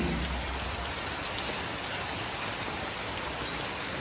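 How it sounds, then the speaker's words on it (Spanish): Heavy rain pours steadily in a Cuban setting, a dense, continuous hiss of drops hitting surfaces at close range, unbroken for the whole stretch with no voices over it. "Lloviendo y bastante."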